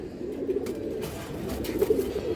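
Pigeons at a farm, a male and female pair, coo in soft low warbling bursts that roll on steadily for the whole stretch, with a clearer cluster of coos near the end and no talk.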